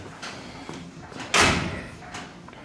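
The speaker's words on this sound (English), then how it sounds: "let's shut the door" A single solid car door slam on a Jaguar XK, loud and close, with a short ringing tail, set against quiet background rustle.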